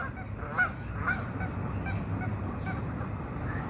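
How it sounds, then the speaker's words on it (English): Waterfowl honk outdoors in a loose series of sharp, nasal calls at irregular intervals over a steady ambient rumble, moderately close. "Hey, ducks, shut up."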